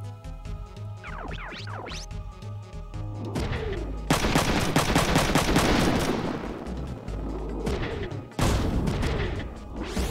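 Gunfire in the video game Front Mission 3: rapid bursts of automatic shots and booming blasts come in loud waves over game music, with sharp impacts and brief pauses between volleys.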